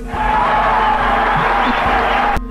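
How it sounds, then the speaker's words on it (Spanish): A large crowd roaring and cheering with applause at the Argentine president's announcement of a debt default, a loud continuous wash of voices that cuts off abruptly near the end. "Y lo aplaudían como si fuera algo bueno."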